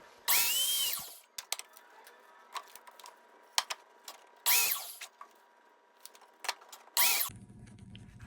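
A power saw cuts wooden rocking chair parts to length in three loud, close bursts, with sharp knocks and clicks of handling wood in the quiet between cuts.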